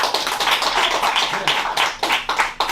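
An improv comedy club audience claps steadily, a loud close wash of many hands with a few sharper bursts and brief dips throughout.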